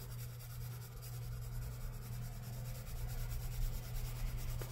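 A red colouring tool rubs across paper while shading a drawing, a soft continuous scratchy scraping at low volume with faint rhythmic strokes throughout and no voices.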